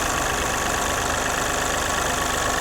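A Mahindra Bolero diesel engine with a faulty cam position sensor runs close and loud, a steady rough clattering drone that stays bogged down and never climbs into a clear rev, with no talking.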